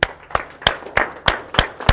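Applause from people at a business networking meeting, a run of about seven sharp, evenly spaced claps close by, with no voices over them.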